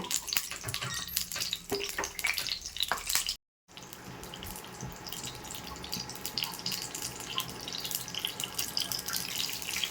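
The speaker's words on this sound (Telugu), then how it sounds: "ఇప్పుడు నా తాలింపు గింజలు ఇక్కడ వేగిపోయాయండి." Dense crackling and spitting from tempering seeds and cumin frying in hot oil, steady and fairly close, with a brief gap of silence early on.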